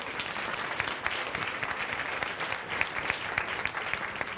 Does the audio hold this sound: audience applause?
yes